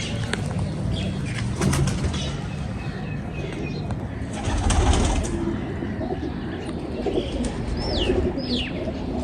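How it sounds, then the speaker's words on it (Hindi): A Sialkoti rooftop pigeon flaps its wings in several quick flurries and coos softly in a loft, with other birds chirping faintly in the background. "बहुत शानदार कबूतर है जी।"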